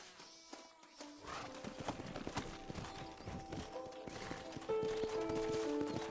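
Steady clip-clopping hooves of a horse in the game Red Dead Redemption, continuous and fairly close, with game music and ambient sounds underneath.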